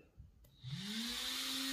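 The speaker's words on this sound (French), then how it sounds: "Le ventilo il tourne, on l'entend." Small cooling fan on the electronic speed controller of a Tamiya TT02 RC car spins up after a faint click, rising in pitch into a steady, close, thin whine.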